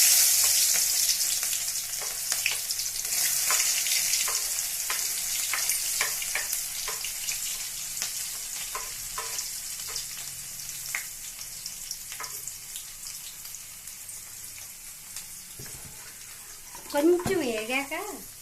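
Onions and green chillies crackle and sizzle in hot oil, a dense close frying hiss with scattered pops and stirring scrapes that fades slightly, ending with a brief burst of other noise.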